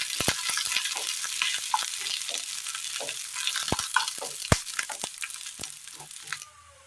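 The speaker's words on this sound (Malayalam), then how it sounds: "കറിയിലേക്ക് കടുക് താളിച്ച് ചേർത്ത് കൊടുക്കാം." Mustard seeds and dried chillies tempering in hot oil for a kathari leaf curry, a close steady sizzle broken by many sharp crackling pops as the seeds burst, ending abruptly.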